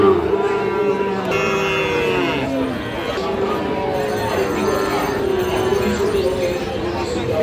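A Frisian crossbreed bull calf lows at a busy Raniganj cattle market, its drawn-out moos rising over a steady crowd babble.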